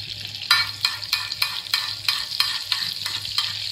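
Oil and butter sizzle on a tawa for egg fry while a spatula scrapes in quick, regular strokes, about ten in a row, close and fairly loud with no talking.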